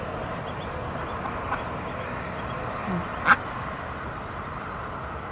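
Ducks kept in a backyard with a shallow water pool give a single brief quack amid steady outdoor background noise, with a few faint calls scattered around it.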